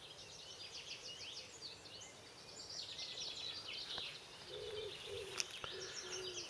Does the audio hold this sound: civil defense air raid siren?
no